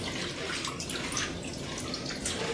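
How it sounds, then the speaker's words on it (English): Wet splashing and dripping as paper is dipped into a bowl of PVA glue and water mixture for an abstract textured painting, close and continuous with small liquid drips. "I'm going to just dip the paper into that and stick it on the surface"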